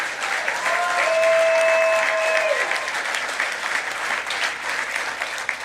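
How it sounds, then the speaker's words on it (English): Audience applause for a speaker's family at an election night event, sustained clapping from a crowd that swells then gradually thins out, with a brief tonal whistle early on. "These strong women deserve applause"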